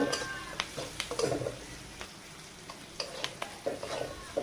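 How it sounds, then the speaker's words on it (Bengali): Spinach seasoned with salt, cumin and turmeric powder frying in a pan, a quiet steady sizzle broken by irregular stirring scrapes and taps, close and fairly soft. "এবার একটু ভেজে নেব।"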